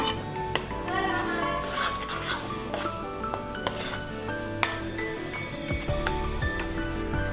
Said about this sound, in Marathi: मी मसाले टाकले आणि याच्यामध्ये मस्त ते परतून घ्या